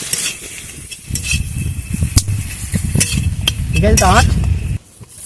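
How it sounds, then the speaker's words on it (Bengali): Leftover rice paste is stirred and fried in ghee in a pan, with a spoon scraping and clinking against the metal under a soft sizzle while a person talks. "পেস্ট করে নেওয়া ভাতটাকে আমি ঘি দিয়ে একটু নাড়াচাড়া করলাম"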